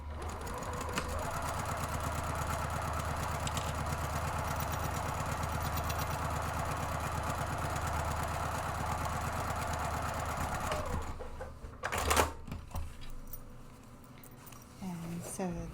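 A sewing machine stitches a purse's rear interior panel to the base panel with a 5/8-inch seam. It runs as a steady, fast mechanical whir for about ten seconds, then stops with a few clicks as the fabric is handled.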